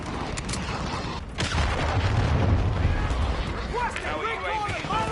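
A cruise missile strike in Modern Warfare 2 lands as a dense, rumbling burst of explosions and gunfire-like blasts, loud and close, with radio-style voices talking over the noise.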